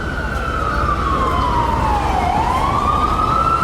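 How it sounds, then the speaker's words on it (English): An ambulance siren wails, sweeping down and then back up in pitch, loud and close, over a steady wash of New York City traffic noise. "This is a recurring sound in New York, the ambulance trying to get through traffic."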